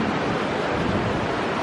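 Ocean waves on Candolim Beach in Goa make a steady, loud, unbroken surf roar that fills the whole moment, with no pauses or voices.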